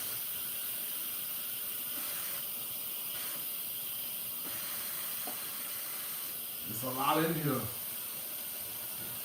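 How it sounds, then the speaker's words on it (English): Steam hisses steadily from a pot of turnip greens being cooked on the stove, a soft, continuous rush that runs under a brief stretch of nearby talking. "I'm trying to release the steam."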